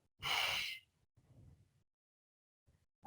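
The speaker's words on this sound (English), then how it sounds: "Take a breath in." A sharp, audible breath drawn in during a guided upper-body stretching session, a single loud inhalation followed by softer breathy sounds, with no talking.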